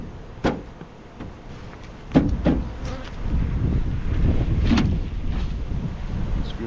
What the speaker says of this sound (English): unless it's one of these bees flying